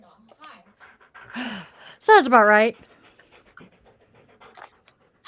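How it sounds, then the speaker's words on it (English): A dog pants and whimpers close to the microphone in short bursts, with one loud, tonal whine in the middle, while a person talks briefly nearby. "I'm being attacked by a dog."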